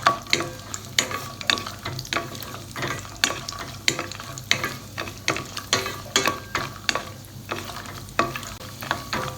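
Cashew nuts and almonds roasting in ghee, a busy sizzle broken by rapid repeated scraping and clacking as the nuts are stirred and tossed in the pan, close and fairly loud.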